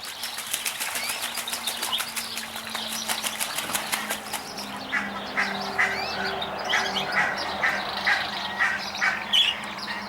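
Wings flap busily, then a ruddy shelduck gives a series of repeated nasal honking calls at a moderate distance, with no voices.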